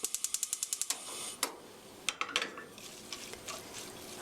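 A gas stove burner is switched on with a quick run of about eight rapid igniter clicks, followed by scattered knocks and soft kitchen clatter, close by and with no talk.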